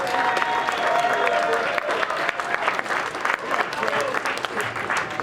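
An audience at an ice hockey in Harlem event breaks into steady, warm applause to welcome Craig Stanton, a dense, even wash of clapping hands holding for several seconds.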